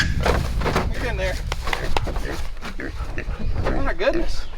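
Pigs of fifty to a hundred pounds grunt, oink and squeal loudly at a farm gate, close and nearly continuous, with people talking over the noise.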